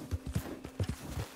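Horse hooves clip-clop at a walk in the Western video game Red Dead Online, a soft uneven run of about eight low thuds close by, with no speech.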